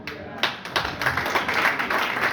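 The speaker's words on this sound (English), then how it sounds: "I mean, it's something to be applauded." A church audience claps in a short burst of applause, with quick overlapping hand claps building over a couple of seconds.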